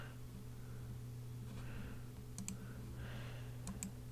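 Mouse clicks on a computer while the shift key is held down, drawing constrained lines in Illustrator; a few faint, sharp double clicks sit over a steady electrical hum in a quiet room.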